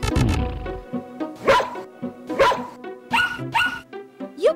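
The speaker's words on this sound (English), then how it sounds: "They bark. So dear dog, bark." A cartoon dog barks in a run of sharp, close, loud bow-wow barks with short gaps, some rising into yips, after a brief low thud at the start.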